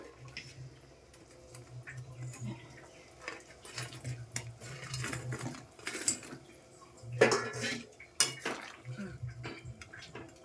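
Chana dal fritters dropped into a pot of simmering curry, quiet clinks and knocks of a spoon and pot with scattered clatter and a louder clank midway, faint talk in the background.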